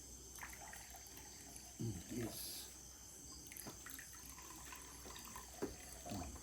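Water pours steadily into a vessel at a Kodungallur Onam gathering, a faint running trickle with brief splashes, mostly under nearby talking voices.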